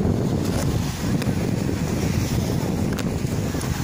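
Surf rolls onto the Azov Sea shore at the Golubitskaya resort on the Taman peninsula, a constant rushing wash of waves mixed with heavy wind buffeting the microphone, with a few brief knocks and no voices.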